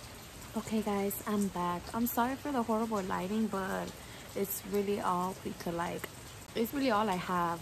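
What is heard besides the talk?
rain falling outside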